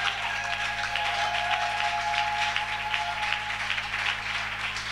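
A church congregation claps together during a Wednesday worship service, the applause steady and sustained over a low hum, with a faint sustained tone in the background.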